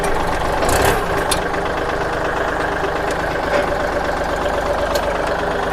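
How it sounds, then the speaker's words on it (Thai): A 36-horsepower engine idles on a machine offered for sale, producing a loud, steady, close rumble with an even low knocking pulse that continues unchanged throughout, with no talking. "เสียงเครื่องแน่นดีครับ"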